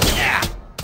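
A gunshot in the South Park video game cracks out in a short, loud burst, followed by a brief gap and a second sharp hit.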